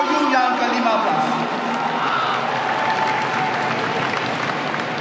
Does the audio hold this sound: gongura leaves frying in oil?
no